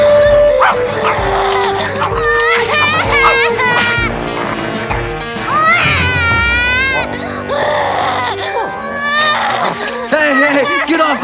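Cartoon dog yapping and whimpering at a zoo amid a busy animated soundtrack, with music, voices and a crying child mixed in; the barks come in short bursts through the loud scene.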